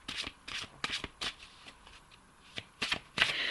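Oracle cards are shuffled by hand for a reading, a series of short crisp riffling bursts at an uneven pace, fairly quiet and close with no talking.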